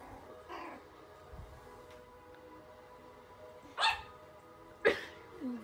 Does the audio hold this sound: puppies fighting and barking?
yes